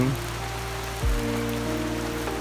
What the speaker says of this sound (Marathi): पुन्हा पावसाला सुरुवात झाली आहे